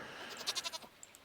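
Goat bleating in a Stardew Valley barn, a quick run of four or five short wavering bleats close together, followed by a couple of faint clicks, with no talking.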